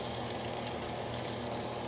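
Eggs fry in a small pan on a Springhill stove, giving a faint, steady sizzle that stays even and uninterrupted for a couple of seconds.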